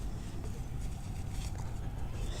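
Steady, low rumbling drone of a small go-kart engine running continuously at a fairly even pitch, heard alone at moderate distance.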